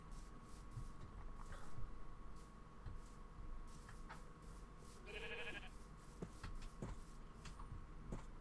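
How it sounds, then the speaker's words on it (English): Sheep in the video game Minecraft give a faint, short bleat midway through a quiet stretch of soft game ambience and small clicks. "There's another sheep."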